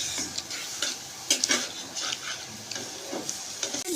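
A spice masala is stir-fried in a pan, a close, moderately loud sizzle punctuated by rhythmic scraping strokes and a few clinks of a utensil against the metal.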